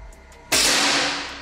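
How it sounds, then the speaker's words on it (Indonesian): A single sharp shot from a PCP air rifle, a loud close crack that decays over about a second, heard alone without talk. "Oke, kita akan coba untuk tembakan yang kedua."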